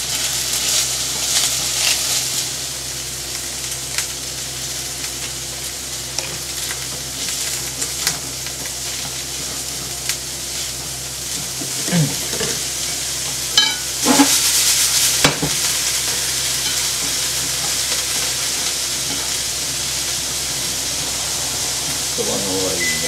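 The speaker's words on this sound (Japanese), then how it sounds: "もう少しのフライパンの方をキャベツに炒めます。" Cabbage is stir-fried in a frying pan for yakisoba. A steady hissing sizzle runs throughout, with occasional knocks and scrapes of a utensil and a louder burst midway.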